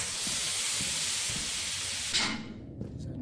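A loud, steady jet of steam hisses in the video game Lethal Company, then cuts off abruptly, leaving quieter ambient rumble and a few faint clicks.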